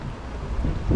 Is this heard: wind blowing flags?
yes